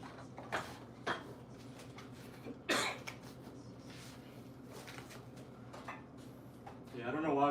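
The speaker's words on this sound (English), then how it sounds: "I don't know why I'm coughing." A person coughs a few times in a gym setting, short harsh bursts spaced apart over a steady background hum, with a louder rustling noise near the end.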